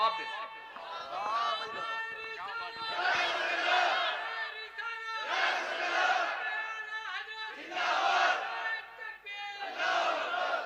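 A large crowd at a religious speech gathering chants the takbir slogan in repeated loud waves of massed voices, each rising and fading in turn, close and energetic.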